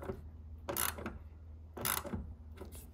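Two bursts of ratcheting clicks from a tool tightening an 8mm bolt on the front wing of a Mini Cooper R56, close and fairly quiet, each lasting about half a second with a pause between.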